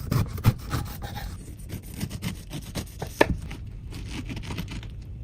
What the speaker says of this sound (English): Carve the pineapple into chunks about the same size as the beef.